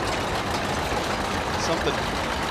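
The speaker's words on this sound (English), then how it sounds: "There is just something about listening to those engines just idle." Antique John Deere tractors, a 1935 Model A and a 1948 Model B, idling in a small-town festival parade, giving a steady low engine rumble under crowd noise.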